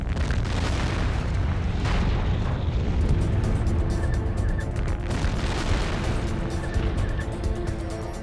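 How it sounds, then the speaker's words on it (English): A car gas tank explodes on a highway in a BLEVE, a deep, continuous roaring rumble that stays loud and dense throughout. "The blast is so strong, it shakes the traffic cam"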